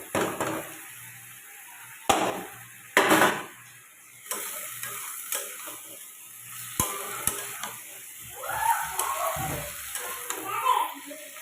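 Fried potato and eggplant go into a pan of cooking cabbage, making sporadic stirring scrapes and clatters over a faint, steady sizzle, with occasional brief knocks.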